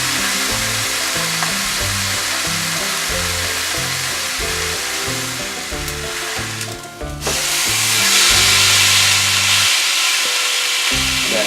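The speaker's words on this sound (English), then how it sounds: "As you can hear, the sizzle is much less now. There's less fresh meat on the outside to cook." Pot roast meat sears in a hot pan, a steady, loud sizzle and hiss that carries on alone under a droning tonal background.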